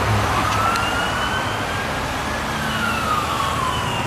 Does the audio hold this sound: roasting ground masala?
no